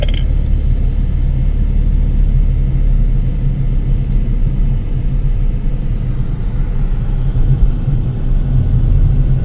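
A car driving a slalom course on the test track of Thailand's national automotive and tire testing center, a loud, steady low engine rumble and road roar close by throughout, with no voices.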